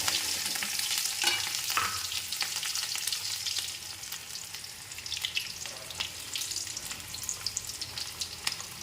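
Garlic and onion sizzle steadily in hot oil, close by, with occasional scraping stirs and no voices.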